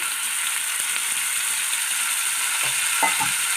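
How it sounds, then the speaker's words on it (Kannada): Garlic fish frying in oil in a pan, a steady bright sizzle running throughout with a few soft clinks near the end. "ಸ್ವಲ್ಪನೇ ನಾನು ಸೈಡಲ್ಲಿ ಆಯಿಲನ್ನು ಹಾಕ್ತಾ ಇದ್ದೇನೆ"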